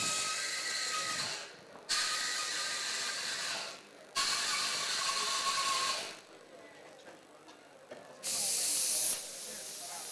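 Bursts of dry steam hiss from an espresso machine's steam wand during equipment cleaning, four loud sprays of about two seconds each separated by short quieter gaps, fairly close.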